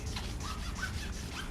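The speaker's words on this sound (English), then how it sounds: "usually you need to add more water when it comes to manual sanding" Sandpaper is rubbed by hand in wet back-and-forth strokes across a car headlight lens, a close rhythmic rasping swish with no talk.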